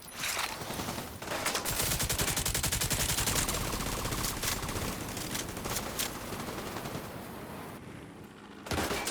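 Sustained automatic gunfire in Tom Clancy's The Division 2, dense overlapping bursts and volleys that run loud and near almost without a break, then a short lull before a final burst.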